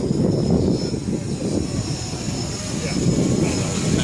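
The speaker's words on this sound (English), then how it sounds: "So here we have a drone hovering overhead." A drone hovers overhead at a naval air station port during a mass casualty drone attack drill, carrying a vial. A loud, steady whirring and rushing drone continues without a break, with outdoor wind noise.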